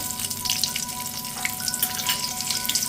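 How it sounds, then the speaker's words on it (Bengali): Chopped onions hit hot oil already crackling with fried nigella seeds and a split green chilli, making a steady, dense sizzle that stays close and loud from start to finish. "কেটে রাখা পেঁয়াজের টুকরো পেঁয়াজগুলোকে দিয়ে দিয়েছি"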